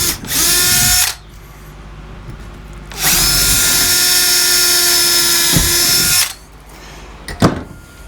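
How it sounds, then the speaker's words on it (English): A power drill bores holes into a wooden bench beam, with a short whine followed by a longer sustained run. Both are loud and close, then a brief knock. "So I'm going to drill my holes"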